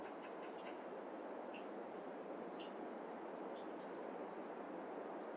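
A train rumbling past in Farming Simulator 22 on an Iowa plains map, a steady, faint, continuous roar of rolling cars with occasional light clatter.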